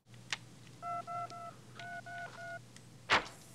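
Door-code touch tones recorded and played back from a small recorder: two quick groups of three steady dual-pitch beeps, faint against a low hum, with a few sharp clicks before and after.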